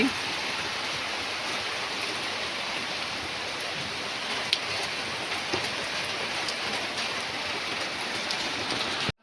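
Heavy rain pours down in a dense, continuous hiss, steady and loud throughout, with a few scattered drips and taps standing out.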